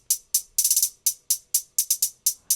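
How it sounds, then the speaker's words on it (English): Trap hi-hat pattern programmed in Logic Pro: crisp, bright closed hats ticking in an uneven rhythm with quick rolled bursts, dry and fairly quiet, no other instruments. "I added that second hi-hat just to give it a little more texture."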